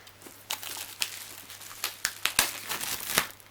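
Plastic packaging being unwrapped from a PS3 Slim console, close by, with uneven bursts of crinkling and tearing and a few sharper rustles.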